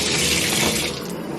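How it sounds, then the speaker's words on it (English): Shower water runs in a steady, close hiss of spray, loud and unbroken, easing slightly toward the end. "I'm gonna take a shower"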